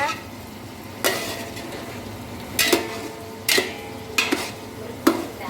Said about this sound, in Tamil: நல்லா கிளறுங்க